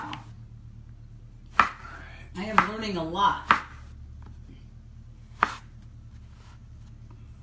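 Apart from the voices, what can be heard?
chopping tempeh with a knife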